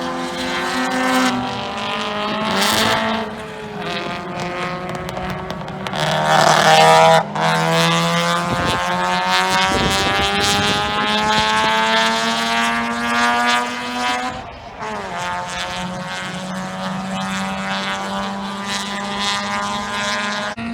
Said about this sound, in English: Now I'll throw in maybe 1 or 2 clips of the car out on track.